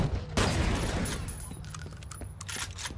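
Shotgun blasts in a video game, a sharp close shot followed by several lighter popping reports spread over a few seconds.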